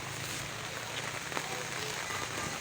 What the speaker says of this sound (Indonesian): Hujan saudara.